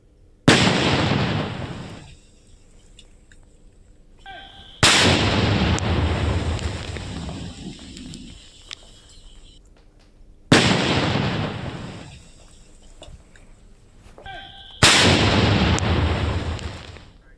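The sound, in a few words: bomb explosion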